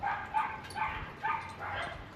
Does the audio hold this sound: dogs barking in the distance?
yes